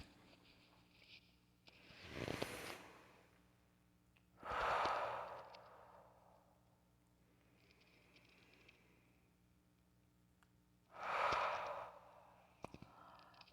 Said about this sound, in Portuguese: Agora uma respiração diafragmática.